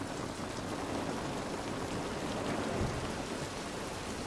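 Rain falls in the video game The Last of Us Part 1. A steady, even hiss of rain on surfaces carries on throughout at moderate level, with a faint low rumble underneath and no voices.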